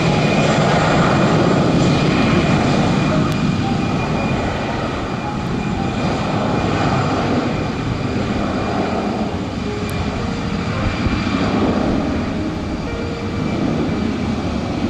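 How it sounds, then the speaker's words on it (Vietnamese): A Thai Airways Airbus A350-900 airliner at Noi Bai airport gives off a steady, loud jet engine roar that holds for the whole stretch, with no voices over it. "Một chiếc máy bay còn rất mới."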